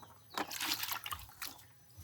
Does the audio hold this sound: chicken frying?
no